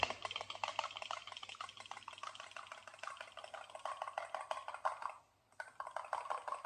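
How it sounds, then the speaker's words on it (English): Fork beating an egg in a bowl for egg wash for scones, a rapid steady clicking and tapping of tines against the bowl, close and moderately quiet, with a brief pause near the end before resuming. "I'm going to use a fork to beat it until it's lightly beaten"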